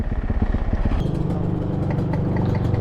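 A 2-stroke Banshee 350 engine idles close by, its rapid uneven burbling pulses turning into a steadier buzzing drone after a moment.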